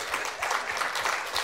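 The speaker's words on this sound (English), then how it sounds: "Let's give them a big applause." Brief audience applause after a talk on political and social landscapes, a dense burst of clapping heard fairly close and steady for just over a second.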